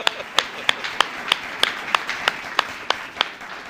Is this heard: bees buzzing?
no